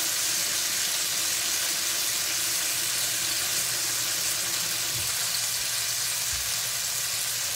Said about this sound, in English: And wash my hands.